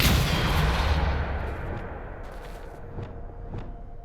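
A Depulso spell is cast in the Hogwarts Legacy video game, a loud booming blast that decays into rumbling, with a couple of fainter sharp impacts following.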